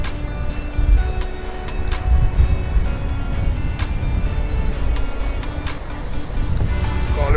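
Gentle surf breaks on Cromer beach, a loud, continuous rush of water close by with slight swells in strength and no one talking.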